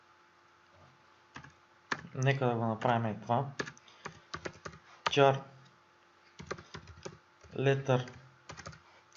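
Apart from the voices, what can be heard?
typing on a computer keyboard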